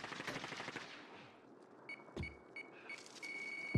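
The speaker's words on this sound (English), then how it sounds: "Hold on, I'm getting shot." Video game gunfire in a Fortnite-style duos match: a quick burst of automatic shots at the start, then a few isolated sharp cracks amid quiet game ambience, fairly faint overall.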